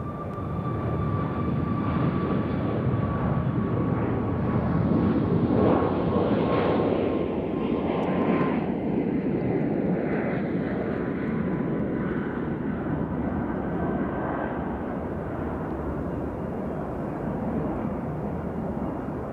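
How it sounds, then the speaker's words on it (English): A small jet taking off at Nashville International Airport gives a loud, sustained engine roar with a whining tone that swells and then slowly fades as it climbs away, with no talk over it. "I'm going to follow this little jet here."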